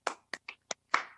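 Hands clap during a church worship service, five sharp separate claps in an uneven rhythm, close and clear against silence.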